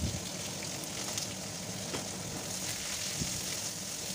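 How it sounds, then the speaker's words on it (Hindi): Chopped onion is added to hot oil with cumin seeds and bay leaves in an Odia kitchen, giving a steady, dense hiss of frying that stays even throughout and is heard without speech. "तापरे काटी रखीतिबा प्याज को सेथरे दे दबा।"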